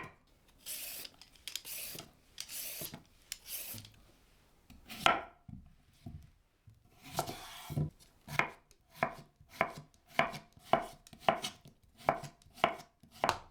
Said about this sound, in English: Chop 4 cloves of garlic. Cut 1 cucumber into pieces.